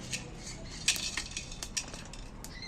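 Dry-roasted whole cardamom, cloves and peppercorns tip out of a hot pan, with small scattered clicks and light metallic scrapes of spices and utensil against the pan.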